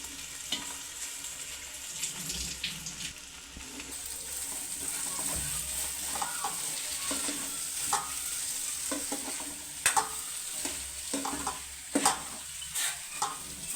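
Flattened rice (poha) tipped into a hot pan of potato and spices and stirred, with a steady sizzle under repeated spoon scrapes and a few sharp clacks against the pan, no talking.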